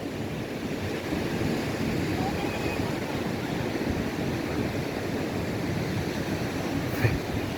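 Sea waves at the Cagayan River mouth in Aparri make a steady broadband wash mixed with wind noise, continuous and fairly close, without distinct individual breaks.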